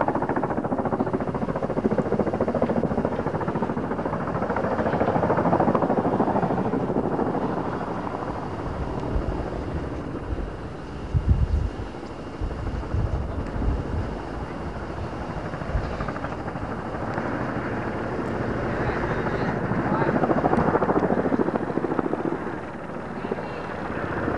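Helicopter flying past overhead after a 1998 tornado outbreak in Kissimmee, its steady rotor drone swelling and fading across the whole span, with wind buffeting the microphone and someone talking underneath.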